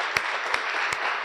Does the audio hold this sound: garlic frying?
no